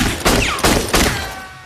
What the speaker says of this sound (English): gunshot might get a little loud here